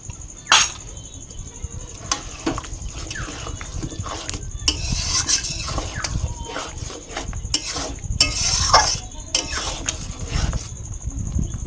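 Sabudana khichuri is stirred in a pan with milk, a spoon scraping and clinking against the metal in irregular strokes over a soft bubbling sizzle, with a steady high whine in the background.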